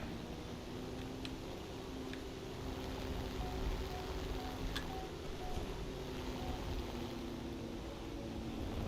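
Boat engine droning steadily while sailing in the video game Middle-earth Reborn, a low continuous hum with a few faint ticks, played at a reduced volume and with no one talking.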